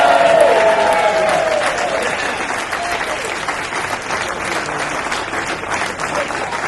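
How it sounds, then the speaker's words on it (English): Audience applause after a murder mystery play, a full round of many hands clapping, loud and steady throughout, with a voice briefly rising over the start and a faint crowd murmur beneath. "All right, how about one round of applause for Norm and Marie Balsey?"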